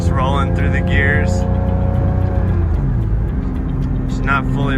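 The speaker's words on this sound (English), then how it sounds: "And the car just sounds so good, just rolling through the gears" Engine of a Porsche Cayman S 987.1, not yet fully warm, pulls through the gears with low shifts under 3,000 rpm, rising and falling in pitch at each change, close and loud, with someone talking over it.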